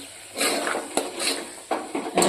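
Green pigeon peas are stirred into a pan of fresh fenugreek leaves, a spoon clinking and scraping against the metal in several short, separate bursts, close and fairly loud, with no talking.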